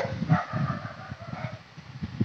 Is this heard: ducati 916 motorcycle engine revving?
no